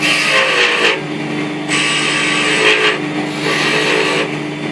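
Wood turning on a lathe for a snowman ornament, a loud continuous whir with harsh scraping surges as the tool bites and the timber groans, swelling and easing in cycles.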